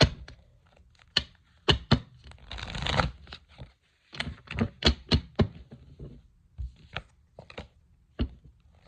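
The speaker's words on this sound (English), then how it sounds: "We gonna shuffle again." Tarot cards shuffled by hand at close range, a run of crisp riffling bursts and soft slaps in an irregular rhythm, with quiet gaps between and no talking.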